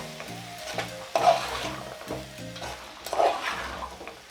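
Githeri, a maize and bean dish, is stirred in a pan with a soft sizzle underneath, two louder scraping sweeps of the spoon standing out against a low steady hum.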